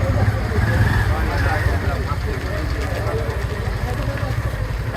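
Motorbike engines idle on a footpath, giving a dense, steady low rumble that holds throughout the clip, with voices in the background.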